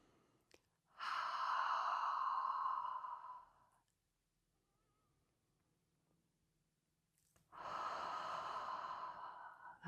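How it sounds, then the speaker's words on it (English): Two long forceful exhales from the Six Healing Sounds qigong practice, each a breathy rush lasting about three seconds, separated by a quiet pause, close and clear with no talking. "That's called the expelling breath"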